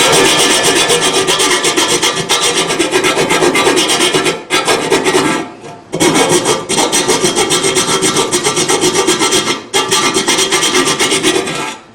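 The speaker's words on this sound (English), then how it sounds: "Now I'd say I need a little more filing to do." A hand file scrapes burrs off metal in a loud, steady rasp of back-and-forth strokes, with two brief pauses between runs of filing.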